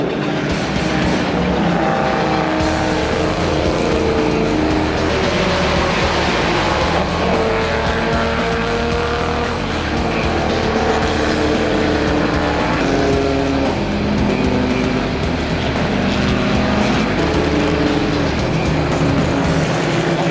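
A V8 race car engine roars and revs hard and continuously at a race at the Paulista speed championship, shifting pitch through gears with a loud, sustained growl and no talking.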